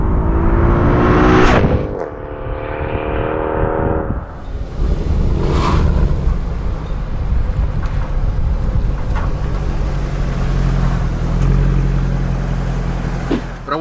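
Mercedes C63 with a custom tune running over 500 hp pulls hard, a loud rising engine note climbing through the gears before settling into a steady roar with heavy wind rush.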